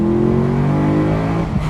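A 2008 BMW M3 E92 engine revving up to 6,000 RPM, heard from inside the car as a loud, strong tone that climbs steadily and then drops off at the end.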